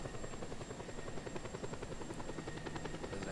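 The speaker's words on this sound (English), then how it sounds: "Alright, I'll ride the helicopter this time." A Just Cause 2 helicopter in flight, its steady rotor chop beating rapidly and evenly over an engine whine, loud and continuous throughout with no talk.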